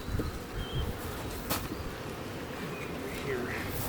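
A steady, low buzz of honeybees around hive frames fills the air, close and continuous, with a few faint knocks and sounds of movement.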